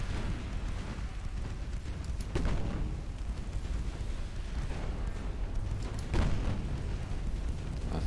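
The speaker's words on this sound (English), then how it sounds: "Torpedo detonation." Torpedo detonations in a naval warship game, two deep booming blasts a few seconds apart over a constant low rumble of sea and engines.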